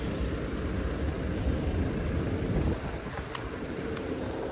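Steady wind rushing and buffeting against the microphone, a continuous low roar with no voices.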